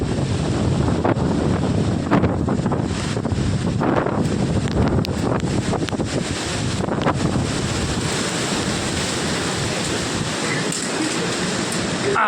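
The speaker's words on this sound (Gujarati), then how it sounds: "પવન જો" A strong windstorm sweeps through a village, with loud, continuous roaring gusts buffeting the microphone for the whole stretch.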